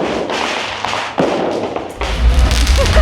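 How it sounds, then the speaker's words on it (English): New Year fireworks and firecrackers go off in Cuenca, Ecuador, a dense nonstop barrage of crackling pops and deep booms, some near and some distant. "like fireworks nonstop now"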